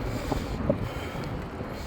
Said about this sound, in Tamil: காற்று நல்லா அடிக்குது கேஸ், செம்ம காற்று.